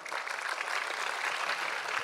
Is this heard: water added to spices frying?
no